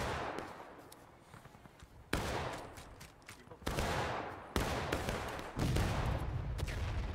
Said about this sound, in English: Keep firing, Georgia. Keep firing. Keep firing, boys.